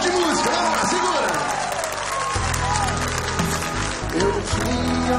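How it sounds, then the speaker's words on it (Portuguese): Audience applause and cheering fill a live sertanejo country-music festival show hosted by a priest, steady and loud throughout, with band music rising underneath midway. "Palmas para Jesus Cristo"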